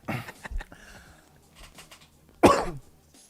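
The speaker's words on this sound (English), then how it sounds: "I literally was just coughing. It's just an inconvenient cough." A person coughs close to the microphone on a live stream, a few soft hacks and throat sounds early on, then one sharp, loud cough, with quiet murmuring between.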